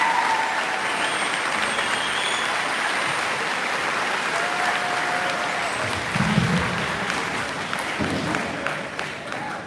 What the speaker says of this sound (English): Please give a round of applause to our current 8th graders.